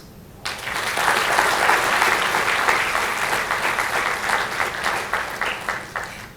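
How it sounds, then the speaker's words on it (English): Warm audience applause at a literary celebration event begins abruptly and holds as a full, steady roar of clapping for several seconds, with individual claps standing out near the end. "Please join me in giving him a warm round of applause."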